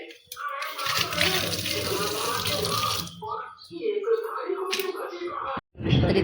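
A knife being washed under running tap water: splashing, hissing water flows for several seconds, then breaks off and returns briefly near the end, with faint clinks along the way.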